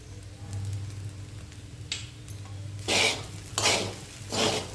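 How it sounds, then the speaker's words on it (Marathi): Sabudana khichdi stir-fried in a pan after salt is added, with a soft sizzle and three loud scraping spatula strokes near the end. "मीठ टाकल्यानंतर छान परतून घेऊ"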